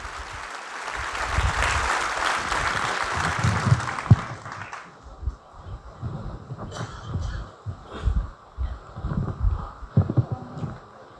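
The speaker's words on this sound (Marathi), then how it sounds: "टाळ्यांचा प्रचंड गजर करा ही नम्रतेची विनंती" An audience applauds at a farewell function, with a dense burst of clapping that fades out after a few seconds into quieter room noise and scattered sounds.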